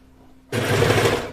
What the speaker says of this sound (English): I kind of like put it almost at straight onto the serger to kind of get it going